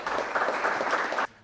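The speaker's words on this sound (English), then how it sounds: "Let's have a round of applause." Brief burst of audience applause welcoming a speaker to a talk, dense and fairly loud, cutting off abruptly near the end into quiet room tone.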